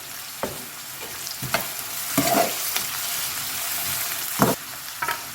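Onion sautés in a pan under a soft, continuous sizzle, while a spoon scrapes and taps the pan now and then in brief knocks.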